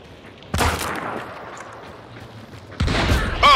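Two loud, sharp shotgun blasts ring out in the Hunt: Showdown video game, a couple of seconds apart, each followed by a short echoing tail. A brief voice is heard at the very end.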